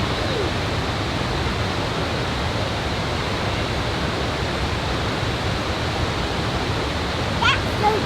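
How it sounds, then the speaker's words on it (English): Water splashes and roars steadily through the Rogue Gorge on Oregon's Rogue River, a dense, constant rushing wash heard close up throughout, with a brief faint bird-like chirp near the end. "Kids are excited about the water splashing up right there."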